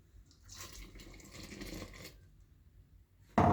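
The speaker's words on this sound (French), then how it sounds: "Je vais rajouter à ceci de l'eau tiède." Warm water poured into a bread dough mix for Pain Matlouh in a bowl, a soft, close splashing trickle lasting about two seconds, then a brief louder knock at the end.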